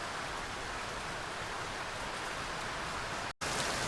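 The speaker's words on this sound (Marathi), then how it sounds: "बिकॉज खूप भयानक पाऊस आला आहे" Heavy monsoon rain falls around a hill fort, a steady, dense hiss of downpour filling the scene without pause apart from a momentary cut near the end.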